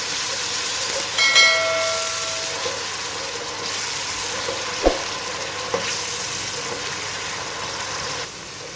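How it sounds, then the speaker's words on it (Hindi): Onions softening in a pan for a Punjabi aloo baingan sabzi, a steady, moderate frying sizzle that runs throughout, with a couple of faint clinks of stirring. "प्याज को यहाँ पे सॉफ्ट कर लेंगे।"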